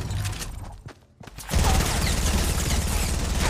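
Rapid SMG gunfire in Fortnite rattles in quick bursts, a short burst first, then a brief lull before a dense, steady stream of close shots takes over.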